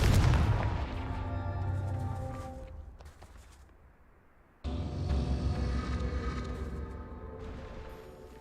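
Confringo fire-spell blasts in Hogwarts Legacy: a loud explosive boom that rings out and slowly decays, then a second sharp blast with a sustained fiery roar, no talk.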